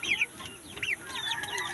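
Chickens kept on a small farm cluck in short repeated bursts close to the microphone, with a steady rural background and no talk.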